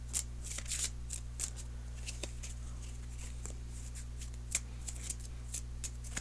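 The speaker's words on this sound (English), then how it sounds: "So let me shuffle for a few more seconds." Tarot cards being shuffled by hand, a quick series of soft riffling flicks and papery slaps at a steady pace, fairly quiet and close over a low constant hum.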